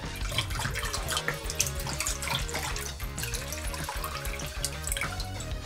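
Water pours steadily into small bowls in a continuous, moderately loud splashing stream with a bubbling, running-tap character and no talking.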